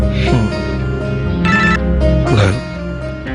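A telephone rings with repeated electronic trills, loud and steady, over a constant background hum.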